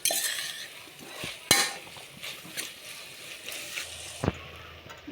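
Shallots, onions, green chillies, ginger, garlic, curry leaves and mutton sautéing in a pan for mutton curry, with a light sizzle beneath sharp metal spatula scrapes and clinks against the pan at irregular intervals.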